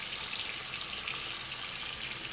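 Water runs steadily from a tap in a continuous hissing stream with no talk.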